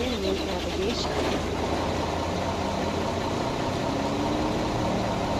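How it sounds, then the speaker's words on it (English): A Mack truck engine in American Truck Simulator rumbles at a steady low idle, a constant droning hum that fills the whole stretch without any clear rise or pause. "let's go ahead and fire up the truck so you can hear that lovely Mac engine that's inside."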